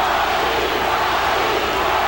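A boxing arena crowd cheers loudly and continuously for fighter Johnny Tapia during a bout against Danny Romero, a dense, sustained roar with no break.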